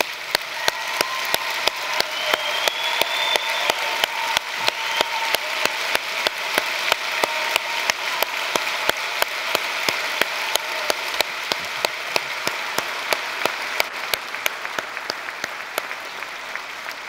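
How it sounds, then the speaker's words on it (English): Sustained audience applause at a political summit in South Carolina honoring veterans and military families, a steady wash of clapping at moderate distance with regular sharp clicks running through it. "Let's have them all stand up and give them a round of applause."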